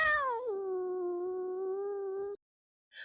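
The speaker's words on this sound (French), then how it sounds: "Beauminois la suivit, malgré quelques rebuffades qu'il reçut avec des miaulements plaintifs." A cat gives one long, plaintive meow that rises at the start and holds a steady wavering tone for about two seconds, loud and close, then ends abruptly. A brief faint sound follows after a short silence.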